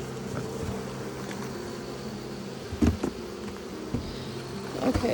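Honeybees crawling over the top of a colony box hum in a steady, close buzz, with a few louder knocks and handling bumps breaking in now and then.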